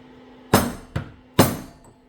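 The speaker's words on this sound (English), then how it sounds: "Hence, bigger hammer." A steering rack bearing on a 3rd-generation Toyota Hilux Surf 4Runner is driven in with a socket and hammer: three sharp metallic strikes, near and fairly loud, with short pauses between.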